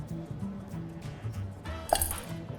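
Steady knife chops against a cutting board in a quick, even rhythm, ending with a brief clink.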